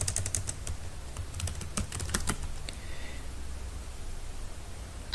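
Computer keyboard typing, a quick burst of soft clicking keystrokes for about two seconds, then a quiet stretch of faint background hiss.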